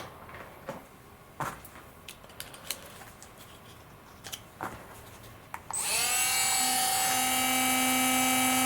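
A Dremel rotary tool fitted with a cutoff wheel spins up to a loud, steady high-pitched whine partway through, following a few scattered light handling taps and clicks.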